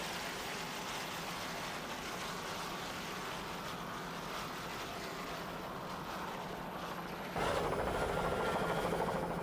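Skater racing powerboats, Eastern Express in D class and Gifford Racing in open class, run side by side at the 1993 World Championships, their engines a constant droning roar that swells slightly louder near the end.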